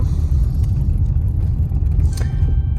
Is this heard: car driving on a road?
yes